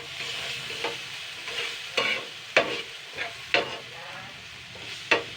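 Noodles with tomato ketchup and Maggi masala stirred in a pan over low flame, soft background sizzle broken by several sharp spatula scrapes and knocks at irregular intervals, with no talking.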